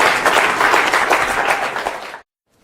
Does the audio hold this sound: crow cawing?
no